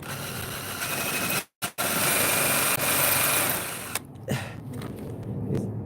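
A high-pitched power drill with a wonky drill bit whirs steadily, cutting out briefly twice before running on again, close by and fairly loud.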